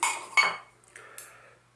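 Metal parts of a Trangia 27 camping stove are packed into its aluminium kettle, giving a few close, sharp clinks and rattles spaced across a second or two, fading to quiet between them.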